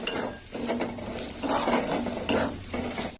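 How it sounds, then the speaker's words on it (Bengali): A spatula scrapes and stirs tomatoes with coriander powder in a pan, quiet rhythmic scraping strokes with soft metallic clinks, close and alone. "এবার একটু কষে নেবো"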